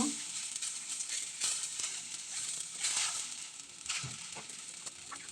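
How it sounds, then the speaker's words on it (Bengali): Softened onion is stirred with ground spice paste in a pan, giving a soft continuous sizzle broken by scraping strokes of the spoon and a few light knocks. "দেব বাটা মশলা, দিয়ে ভালোভাবে একটু নাড়িয়ে নিব"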